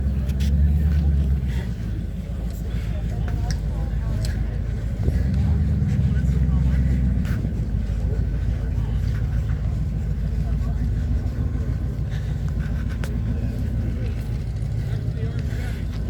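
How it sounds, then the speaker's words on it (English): A flathead engine idling in a car at the Iola car show, a steady low rumbling drone throughout with a voice talking over it. "Still running the flathead."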